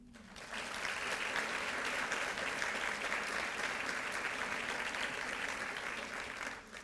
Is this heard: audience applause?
yes